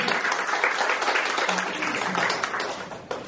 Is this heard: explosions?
no